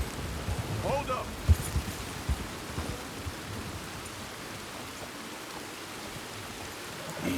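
Rain in the Red Dead Redemption 2 game pours as a steady broad wash, with a few knocks and a brief murmur of voices early on, continuous throughout.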